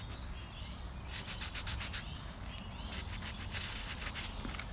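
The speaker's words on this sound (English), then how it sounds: "You just merely just rub the rag over them." A rag is rubbed over the grooves of a whakairo carving being restored, making soft, quiet, rhythmic scrubbing strokes in repeated bursts.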